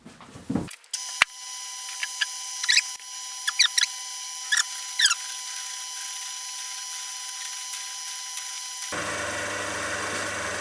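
A milling machine cutting a supported shaft in a workshop: a steady tonal machine whine with faint intermittent chirps from the cut, before a sudden shift to broader, noisier grinding near the end.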